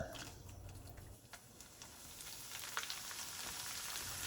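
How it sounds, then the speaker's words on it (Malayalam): Small pieces of pappadam crackle and sizzle in hot oil in a frying pan over low heat, a steady close fizzing with light popping throughout and no talk. "എണ്ണ ചൂടായി കഴിയുമ്പോൾ ഇതിലേക്ക് പപ്പടം ഇട്ട് വറുത്തെടുക്കുക."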